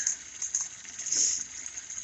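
Water from a slowly dribbling hose runs into a cattle trough outdoors, a steady faint hiss and splash with a brief swell near the middle, no talking.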